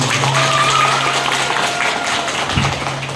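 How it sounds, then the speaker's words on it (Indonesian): An audience at a school meeting in Ternate claps together, a continuous, fairly loud patter of many hands lasting a few seconds, with a faint steady hum underneath. "Tepuk tangan dong, tepuk tangan."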